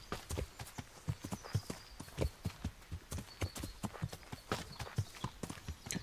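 Horse hooves clip-clop in a steady walking rhythm in the medieval video game Kingdom Come Deliverance, close and fairly quiet, each footfall distinct.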